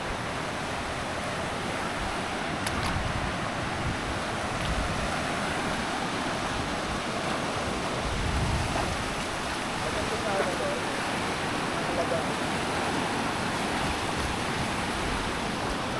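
A waterfall and a river flow in an outdoor setting, giving a steady broadband rush of water that holds throughout, with brief voices and wind buffeting on the microphone.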